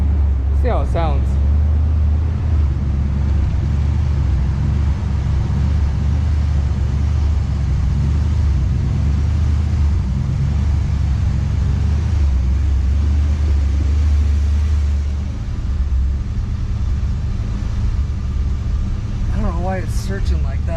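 A 1986 Trans Am with fuel starvation idles at about 850 RPM, a steady low engine rumble that runs throughout. Someone talks over it at points.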